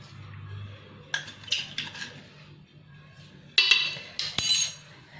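A large metal spoon scoops sugar and taps against a bowl for a cake cream, giving scattered sharp clinks and scrapes with brief pauses between them, close and fairly clear.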